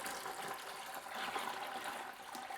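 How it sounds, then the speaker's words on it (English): A gallon of water poured into a bucket while deep-cleaning an aquarium, a steady close splashing and gushing rush that lasts throughout with no talking. "I'm gonna add my 2nd gallon of water, and then I'm going to add the scoops."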